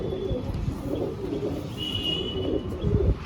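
Pigeons coo in low, throaty murmurs, close and continuous against a noisy loft background with a faint tonal whine.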